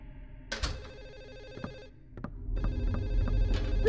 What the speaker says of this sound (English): I hope the phone stops ringing when we go up